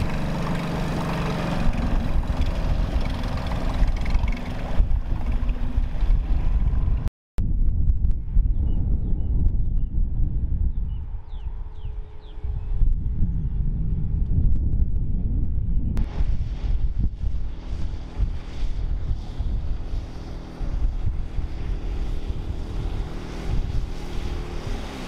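A new boat's engine runs under load out on the water, a steady loud rushing roar mixed with heavy wind buffeting, broken by a brief dropout and shifting in tone midway.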